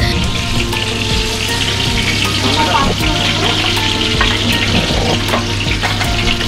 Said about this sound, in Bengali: মাছগুলো কিন্তু হালকা করেই ভাজতে হবে